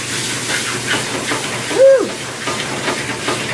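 A pint of grape tomatoes sizzles in hot oil with garlic, a steady soft hiss with one brief whistling squeak partway through.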